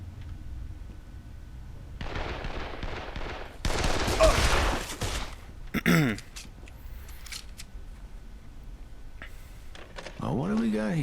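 Shotgun fire in a video game, a few loud sharp bursts separated by quieter gaps and clicking, with a voice briefly heard near the end.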